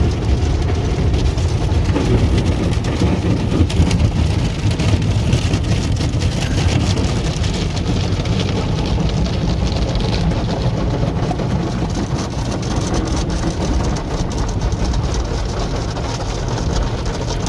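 An automatic car wash in Canada sprays and scrubs a car sitting in neutral, giving a steady, loud wash of rushing water and machinery rumble that continues without pause.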